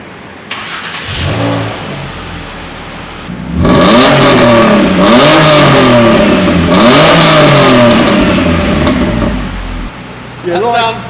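A Ford Mondeo ST220 fitted with a new Milltek exhaust starts up and settles, then revs hard in repeated loud, rising and falling bursts close by, with a brief blip near the end.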